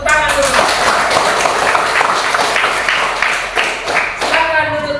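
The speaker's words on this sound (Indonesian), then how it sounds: "Ya, tepuk tangan dulu." Indoor audience clapping hands together, loud and close with dense overlapping claps, fading slightly toward the end as voices come through.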